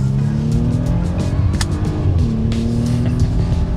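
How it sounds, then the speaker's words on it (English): A 2021 Audi SQ5 SUV with a six-cylinder engine and sport package speeds up hard. The engine drone climbs steadily in pitch, loud and close from inside the cabin. "Now we'll do quick acceleration here."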